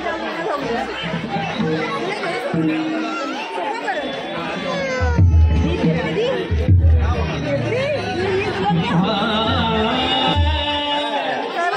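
Crowd chatter at a Hanuman Janmotsav festival: dense, loud babble of many overlapping voices with nearby talk, scattered shouts and occasional low thumps throughout.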